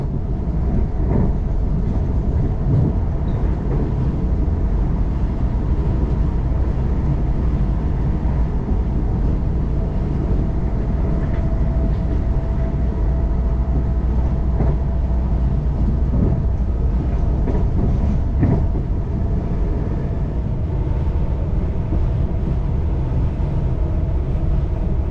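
Inside a South Western Railway Class 444 Desiro train travelling from Dorset to London, with a loud, constant low rumble and rolling noise and occasional faint rattles throughout.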